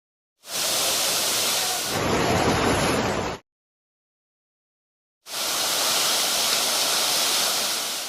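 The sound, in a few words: flood water rushing in forcefully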